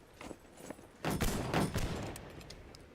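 Smoothbore musket fire in Holdfast, a quiet distant pop followed by a louder close volley of overlapping shots that trails off into scattered crackling reports.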